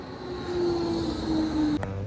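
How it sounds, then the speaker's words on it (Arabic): Riding a tram in Innsbruck: a steady rail rumble with a thin, sustained wheel squeal rising for about a second, then a sharp clunk near the end, heard from inside the car with no talking. "ركبنا الترام"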